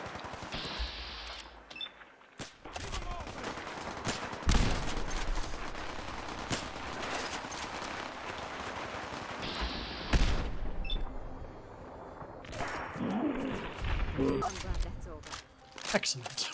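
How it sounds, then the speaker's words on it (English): Gunfire in the post-apocalyptic game Fallout 4 at a hotel settlement, scattered bursts of loud shots and rattling volleys throughout, mixed with someone talking over the action. "I'm going to end up shooting through the settlers if I open fire"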